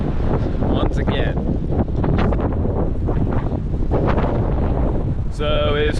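Strong gusting wind from an Ohio Valley windstorm roars constantly against the microphone at high volume, with brief higher tones cutting through near the end.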